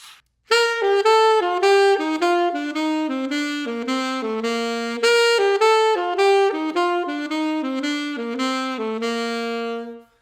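A solo saxophone plays a brisk jazz line of short tongued downbeats mixed with smooth slurred upbeat runs, close and steady throughout.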